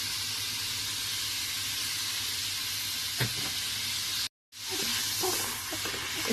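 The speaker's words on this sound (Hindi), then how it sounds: "साथ में डालूंगी 2 खाने के चम्मच लहसुन अदरक का पेस्ट" Garlic ginger paste sizzling in a pot for Delhi-style beef yakhni pulao, a loud continuous hiss and fry with a few stirring knocks and a brief dropout, no talk.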